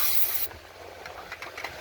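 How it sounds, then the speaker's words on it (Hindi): Carpet cleaner spray gives one close, sharp hiss of about half a second onto the underbody of a 2025 Haval H6. Faint scattered rustles and taps follow. "इसको कारपेटर स्प्रे को मार के ना थोड़ी देर रख दे"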